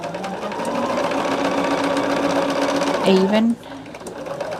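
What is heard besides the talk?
sewing machine stitching quilt block pieces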